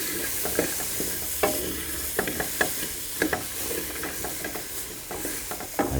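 Sweet potato and red apple pieces fry in a pot for curried soup, a continuous close sizzle broken by repeated scraping stirs and light clinks of the utensil against the pot.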